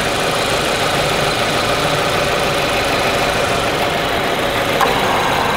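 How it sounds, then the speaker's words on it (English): A car's AC compressor clutch engages while the engine idles, heard as a steady loud engine drone with a faint brief click near the end, close up and without talk. "the AC clutch just engaged. The compressor kicked in."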